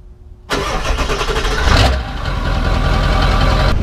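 A Ford Powerstroke diesel pickup engine cranks and catches with a sudden roar, revs briefly, then settles into a steady loud idle that carries on as the truck pulls away, no voices.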